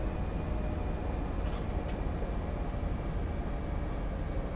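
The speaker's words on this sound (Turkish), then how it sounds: "Bu tren nereden çıktı ya?" A train rumbles past in Bus Simulator 18, a steady low rolling drone with a faint high tone and a couple of brief squeaks, continuous and fairly loud with no voices.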